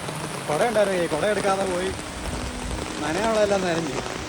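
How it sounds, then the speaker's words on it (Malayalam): Steady rain hisses in the background at Athirappilly waterfalls while a person speaks over it. "അന്നേരം തന്നെ ഒരു മഴയും പെയ്തു"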